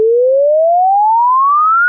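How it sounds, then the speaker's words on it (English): Part of a sine-sweep test tone meant to run from 30 Hz to 22 kHz: a pure electronic tone glides smoothly and steadily upward in pitch, loud and alone throughout. "it goes from 30 hertz all the way up to 22K"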